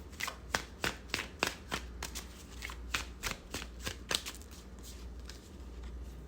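Tarot cards are shuffled by hand, a series of sharp riffling snaps and slaps in an uneven rhythm, close and fairly quiet, with no talking.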